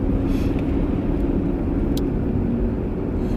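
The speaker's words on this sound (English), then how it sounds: "Where is this car scooting off to?" A car pulls away on a road on a cold, wet day, producing a steady low rumble and engine drone that holds level throughout, with no speech.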